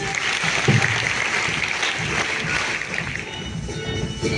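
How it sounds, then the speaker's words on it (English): Students and guests at a school investiture ceremony give a sustained round of applause, a steady wash of clapping that stays fairly even throughout. "Let us give them a loud round of applause."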